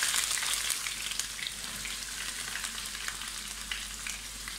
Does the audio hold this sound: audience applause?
no